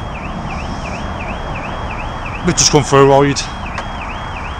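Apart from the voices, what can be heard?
car alarm going off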